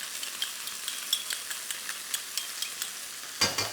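Chicken and vegetables being stir-fried with oyster sauce in a very hot wok, a steady crackling sizzle with small rhythmic pops from tossing, plus a louder scrape near the end.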